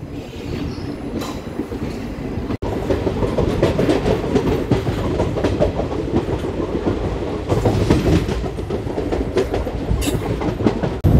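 Sabari Express running on the tracks between Guntur and Coimbatore, a loud, steady roar from inside with rhythmic clickety-clack of the wheels and faint squeals, no voices.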